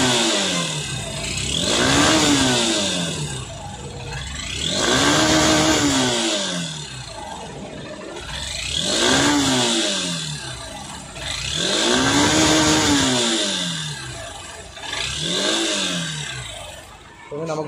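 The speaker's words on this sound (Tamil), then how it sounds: "ஸ்டார்ட் பண்ணி பார்ப்போம் இப்போ எப்படி இருக்குது அப்படின்னு சொல்லிட்டு." A vehicle engine, running after an ignition coil replacement, is revved up and let fall back five times in a rhythmic rise-and-drop pattern, loud and close throughout.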